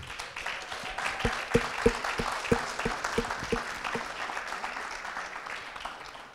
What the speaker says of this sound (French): Des journalistes que je vous demande d'applaudir,